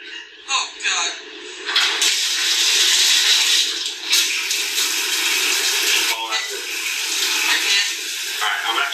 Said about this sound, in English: you put the shower on as cold as possible, and you jump in it